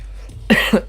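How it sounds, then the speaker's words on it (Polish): Two quick, close coughs about a quarter second apart, from a streamer during a Polish Elder Scrolls livestream, over a low steady background hum. "Kaszel, kurde."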